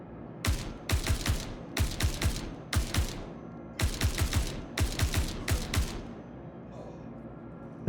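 Single-fire shots ring out in Star Citizen, loud and close, in quick clusters of three or four sharp cracks separated by brief pauses, then fall silent near the end.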